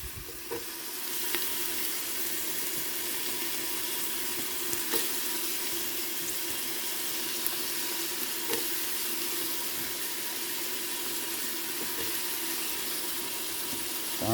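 Celery added to a hot soup pot sizzles and crackles continuously at a steady level, with occasional faint clicks and no talking.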